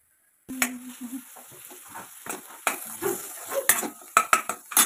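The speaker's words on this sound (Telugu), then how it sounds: "కొద్దిగా పసుపు, కరివేపాకు వేసుకుని బాగా ఫ్రై చేసుకోవాలి" Onions fry in a pan with turmeric and curry leaves for a capsicum and soya chunk masala curry. After a silent start, uneven bursts of crackle mix with spatula scrapes and clinks against the pan, close up.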